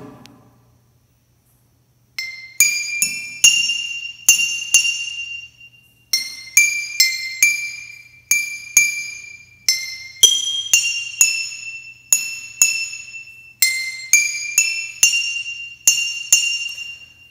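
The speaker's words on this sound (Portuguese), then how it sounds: "Olha que som bonito do nosso instrumento." A homemade alternative instrument with bright, glassy struck tones plays a slow simple melody note by note. It is clear and ringing, with short pauses between phrases and no speaking.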